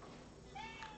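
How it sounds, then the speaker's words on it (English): A house cat gives a single short, fairly quiet meow close by, over a steady background hiss. "she figured out that if she meowed enough"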